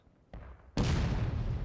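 A musket volley in the Civil War game War of Rights on the Dunker Church map: a faint early shot, then a loud massed crack that rolls on as a sustained rumbling roar.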